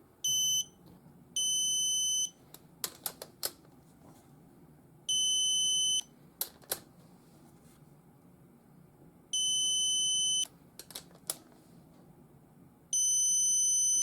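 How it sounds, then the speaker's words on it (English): Digital torque wrench on cam gear bolts during a 2002 Honda XR100 dirt bike top end rebuild, giving five separate bursts of loud, steady high-pitched beeping as it nears the 20 target torque, with faint clicks and low workshop background between bursts. "it starts signaling when you start getting close, just so you know to stop"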